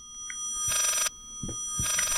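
A telephone rings inside the horror video game Layers of Fear, two bright electronic ring bursts separated by a short gap, with low soft thuds and a faint steady hum underneath.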